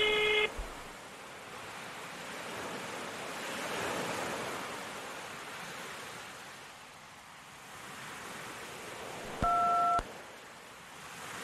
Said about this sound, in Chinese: 嘟声后请按井字键。